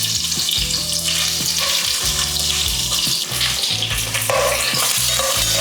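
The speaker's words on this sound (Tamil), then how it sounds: "கட் பண்ணி வச்சுருக்கிற வெங்காயம் சேர்த்துக்கிறேன்." Chopped onions frying in hot oil for biryani, a loud, steady sizzle running throughout with stirring and occasional utensil knocks and scrapes in the pan, no voices.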